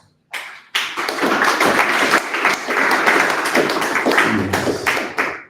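Audience applause welcoming a speaker at a data center tech talk, dense steady clapping that starts abruptly after a brief pause and holds loud and even for several seconds, with a few thumps mixed in.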